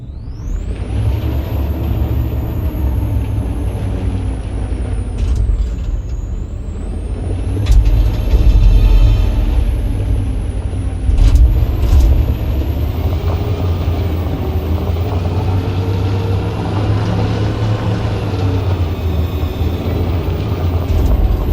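Heavy truck engine in the video game Detroit: Become Human, rumbling steadily with a deep low drone, occasional hissing bursts like air brakes, loud and close, no voices.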